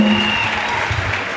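A church congregation gives sustained, dense applause for Jesus, loud and continuous throughout.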